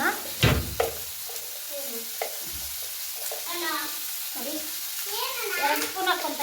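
Food frying in a pan, a soft continuous sizzle with a few sharp utensil knocks early on, while someone talks over it close by.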